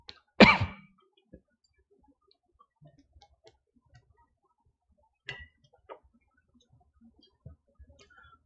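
A single sharp throat clearing near the start, close and loud, followed by a quiet stretch with only faint scattered clicks and small mouth noises.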